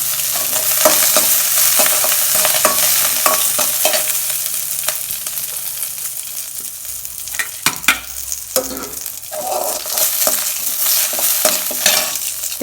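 Ridge gourd peel with tamarind and curry leaves being sautéed in a pan, a loud steady sizzle broken by repeated scraping and clanking stirs of a spoon against the pan.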